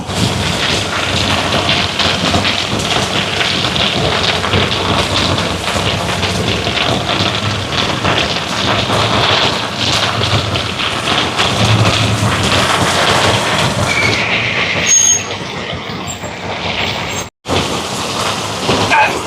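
Heavy rain pours steadily as a dense, loud hiss close by during an almsgiving food distribution, with a brief quieter patch and a momentary dropout near the end; no speech is heard.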